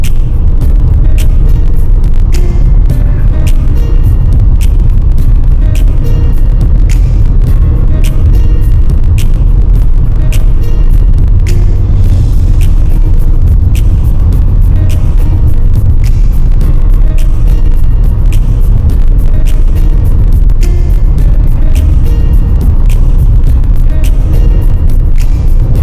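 Car traffic streams along Lake Shore Drive in Chicago as a loud, continuous rumble of passing vehicles, with low engine drone and tire roar close by and no talking.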